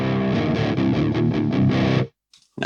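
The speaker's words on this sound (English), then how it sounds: "Let's come up with a basic distortion first." An electric guitar through the Audio Assault AHM distortion plugin chugs a quick, heavily distorted riff for about two seconds, then cuts off abruptly into near silence.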